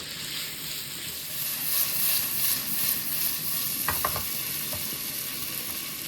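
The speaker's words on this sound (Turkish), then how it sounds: "Evet köftelerimiz güzelce kızardı." Vegetable meatballs fry in a shaken pan with a steady, close sizzling hiss throughout and a few light clicks and rattles near the end.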